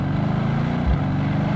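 Mercedes-Benz C63S AMG W205 engine heard from inside while driving, a deep, pulsing low rumble with a brief thump of a gear shift partway through, steady and fairly loud, no talk.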